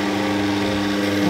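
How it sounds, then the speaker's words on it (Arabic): A dough kneading mixer runs with a steady, close mechanical motor hum during pizza dough preparation, continuous and even in loudness throughout, with no talking. "نشغل العجانة"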